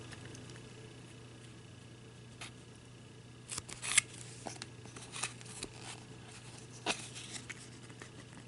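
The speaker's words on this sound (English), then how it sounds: "I am going to go in between these little feathers and everything, since I can do that with these scissors." Quiet, irregular snips and clicks of small pointed scissors cutting around feather shapes on a craft ornament, close by, over a low steady hum.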